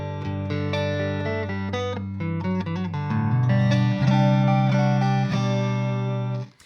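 Guitar played through a Strymon Timeline delay pedal with short repeats used as a modulation effect, a steady run of picked notes and chords with a warbling, doubled shimmer, loud and close, cut off abruptly at the end.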